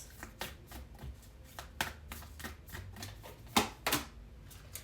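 Close, quiet shuffling of a deck of oracle cards, a steady run of soft riffling flicks and taps with a couple of sharper snaps near the end.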